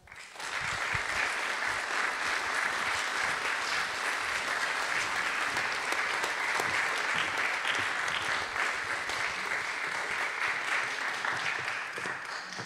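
An audience at a lunchtime new-music concert gives a round of applause for a duo, steady and full for the whole stretch, with a slight taper at the very end.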